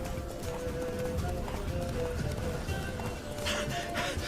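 Roach, Geralt's horse in The Witcher 3: Wild Hunt, gallops with rhythmic hoofbeats under game music and ambience, and a voice speaks briefly over it.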